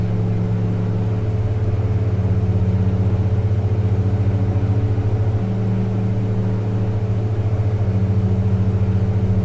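Twin turboprop engines of a Saab 340A in X-Plane 11 drone steadily as power comes up for takeoff, a loud continuous tonal hum with a low rumble underneath, holding even throughout with no voices.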